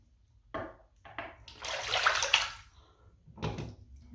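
Water running and splashing into a bathroom sink, hot water being drawn before a wet shave, in uneven bursts with short pauses, close and moderately loud with no talk.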